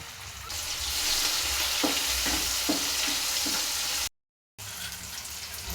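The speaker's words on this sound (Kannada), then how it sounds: "ಚಿಕ್ಕದಾಗಿ ಹೆಚ್ಚಿರೋ ಒಂದು ಟೊಮ್ಯಾಟೊ ಹಾಕ್ಕೊಂಡು ನೀಟಾಗಿ ಫ್ರೈ ಮಾಡ್ಕೊತೀನಿ ನೋಡಿ" Chopped tomato frying in a pan, a steady close sizzle with a few soft stirring scrapes, briefly cut to silence near the end before the sizzle resumes.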